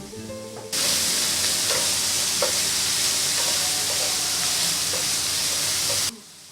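A loud, steady sizzle begins abruptly as green beans, lemongrass and chili hit a hot pan, with faint stirring clicks under a continuous hiss for about five seconds before it cuts off.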